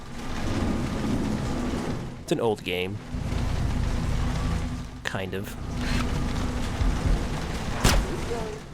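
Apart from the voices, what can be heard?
rain and thunder in Splinter Cell video game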